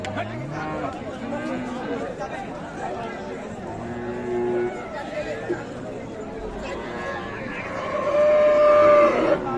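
Cattle moo repeatedly amid a busy crowd at Ambari cattle market in Dinajpur, several deep calls near and far while people chatter and talk nearby.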